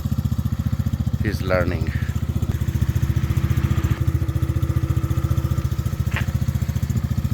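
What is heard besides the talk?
125cc ATV quad engine running while riding in reverse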